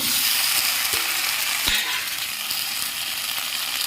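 Potatoes frying and being stirred in spiced oil in a wok, a steady loud sizzle with a few metallic clinks and scrapes from the stirring utensil.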